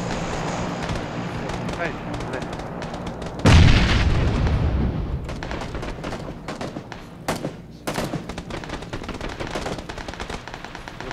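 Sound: grenade thrown and gunfire in a video game

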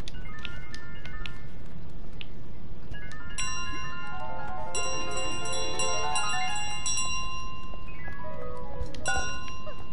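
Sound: bell ringing in Untitled Goose Game video game

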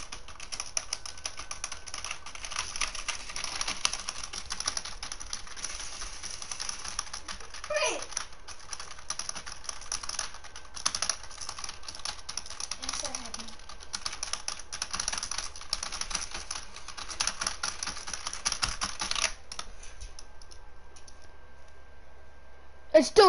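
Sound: typing on a computer keyboard

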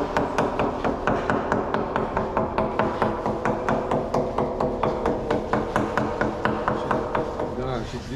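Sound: hammer knocking on a wooden mast to check for rot

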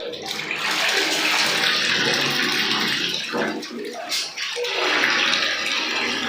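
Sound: water poured for bathing

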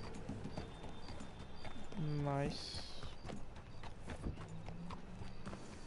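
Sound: horse hooves clip-clop, from video game Red Dead Online

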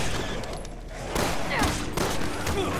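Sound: gunfire from the video game Resident Evil 6

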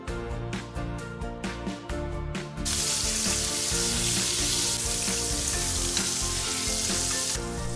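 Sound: beef steak searing in melted butter

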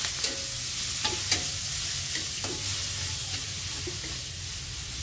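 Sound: spice paste being sautéed in a pan

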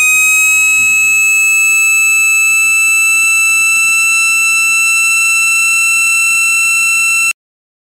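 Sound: C3 siren

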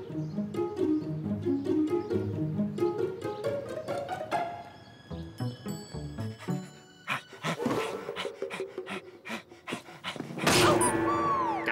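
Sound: cartoon dog panting and whimpering

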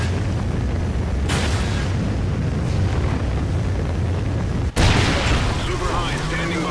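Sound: Trinity rocket explosion in Call of Duty: Ghosts video game

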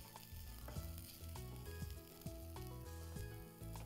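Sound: frying browned onions with crushed ginger and garlic

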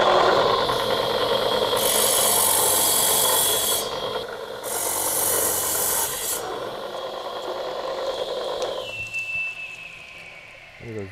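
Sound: rubbing stone dressing a tile saw blade

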